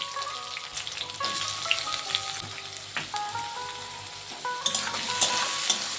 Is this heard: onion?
yes